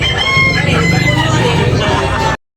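A rooster crows loudly and close by at a rooster market in Tabunok, Talisay, Cebu, one long drawn-out call that cuts off abruptly, with faint background chatter.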